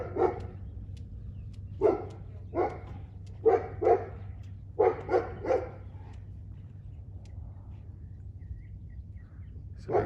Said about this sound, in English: So there's a dog barking through the fence.